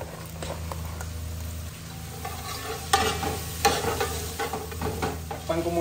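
Cabbage goes into a small splash of hot oil in a pan while pancit guisado is cooked indoors, a steady close sizzle under repeated clanks and scrapes of stirring that grow busier toward the end; no talking.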